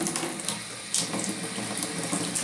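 Warm water runs steadily from a sink tap, a continuous close splashing stream with small surges in the flow and no voices.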